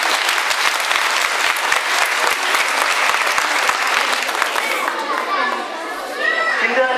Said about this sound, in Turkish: Öğrencimizin özgüveninden dolayı bir kez daha alkışlıyoruz.